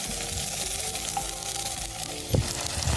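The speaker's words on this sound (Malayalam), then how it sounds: "ഇത് മൂത്ത് വരുമ്പോൾ നമുക്ക് തക്കാളി പേസ്റ്റ് ഒഴിക്കാം." Tomato paste fries in a pan for a fish curry, giving a steady close sizzle while it is stirred, with a couple of louder scraping stirs near the end.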